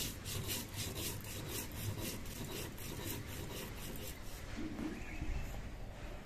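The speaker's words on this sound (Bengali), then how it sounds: "এবার আমি যে জিরেটা ভেজে নিয়েছিলাম সেই জিরেটা বেটে নিচ্ছি।" Fried cumin seeds ground by hand on a grinding stone in a home kitchen, a continuous rough scraping and rubbing in repeated back-and-forth strokes, close and fairly quiet with no talk.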